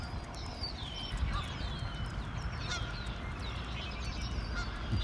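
Geese honk in a loose, irregular series over a steady outdoor rumble of rushing water at a river dam, the calls moderately distant.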